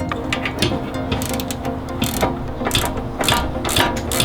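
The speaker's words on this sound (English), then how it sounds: "You can take your 2 bolts and use them to lock the caliper bracket into place." Caliper bracket bolts being tightened with a ratchet during a brake pad and rotor replacement with a Powerstop Z23 Evolution Sport kit, rapid close pawl clicking in repeated bursts.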